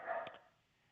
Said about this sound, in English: I got to get that dog out of here.